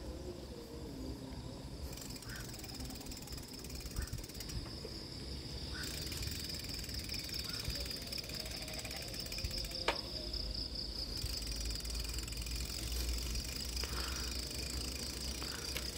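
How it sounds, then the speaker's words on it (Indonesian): Steady high-pitched cricket chirring fills a quiet night at a disused old airport in Semarang, with a few faint scattered bird calls over low background rumble. "Hanya ada suara-suara hewan malam ya, jangkrik, burung."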